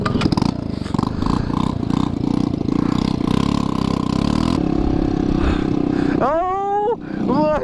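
Rough, ragged engine drone from a TaoTao 150cc GY6 scooter with a damaged exhaust, loud and close, running steadily before a few rising whines near the end, with street stunt riding around it.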